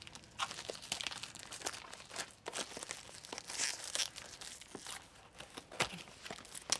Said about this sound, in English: So when I open canvases, I always try to just open from the bottom and I don't take the plastic completely off